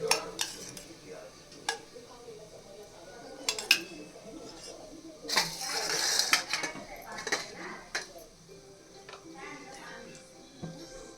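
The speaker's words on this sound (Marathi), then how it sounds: "त्याच्यामध्ये आपण 2 चमचे तूप टाकूया." A metal spoon scrapes and clinks against a hot kadhai as ghee is added for carrot halwa, sporadic sharp clanks with a faint sizzle, while a person speaks over the kitchen sounds.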